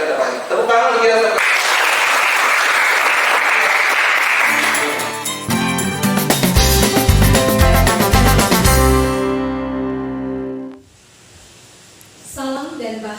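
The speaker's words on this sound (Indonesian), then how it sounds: "Tepuk tangan untuk kita." Applause rises as a steady, dense patter for about four seconds, then gives way to an upbeat musical jingle, heard at the start of an online teachers' coaching session for academic supervision.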